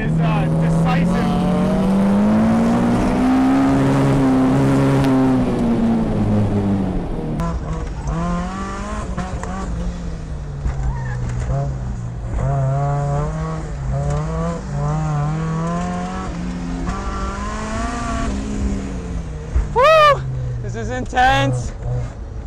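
A K24-swapped Miata racing on track, its engine rising and falling through loud, revving pulls and gear changes up close, with someone talking over it throughout.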